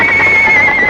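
A spooked horse lets out a short, shrill whinny, loud and close, heard on its own.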